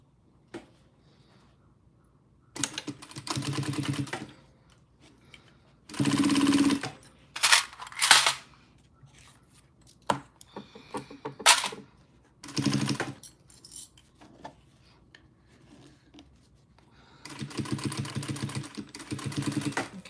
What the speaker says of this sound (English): now we're just gonna stitch this down